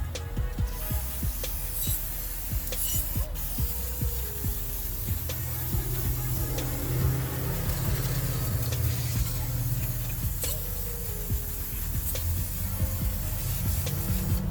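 Aerosol parts cleaner sprayed around the oil filter area of an Acura TLX during an oil change, a steady continuous hiss running throughout with faint clicks and workshop noise underneath.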